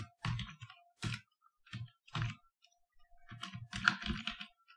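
Keys clack on a computer keyboard in short bursts of typing separated by brief pauses while a code comment for a Drupal block preprocess hook is entered, close and clear with no voices.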